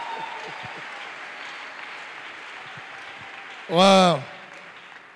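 Church congregation applauding during a worship service, a steady wash of clapping from many hands throughout, with a voice briefly calling out over it near the end.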